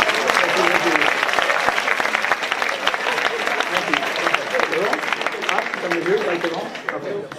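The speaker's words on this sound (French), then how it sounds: "On peut l'applaudir bien fort." Spectators at a stage hypnosis show clap for a volunteer, lively close applause lasting about seven seconds with voices murmuring underneath.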